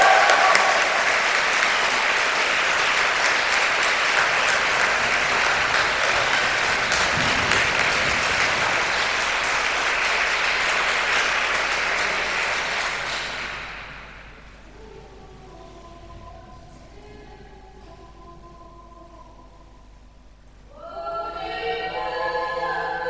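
A concert audience at a charity performance of Ukrainian songs applauds loudly and densely for about thirteen seconds before fading out. Quiet sounds follow, then a voice speaks near the end.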